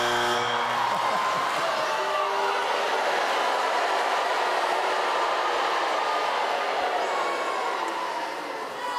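Television talent show audience of people under 30 cheering in a large venue, a loud continuous roar of crowd noise that swells and holds, fading slightly at the very end.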